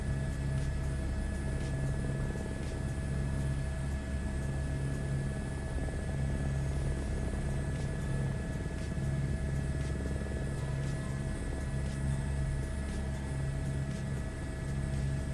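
Helicopter in Microsoft Flight Simulator 2024: a steady, droning rotor and engine hum with a low rumble and faint whine, constant and unbroken throughout, with no talk.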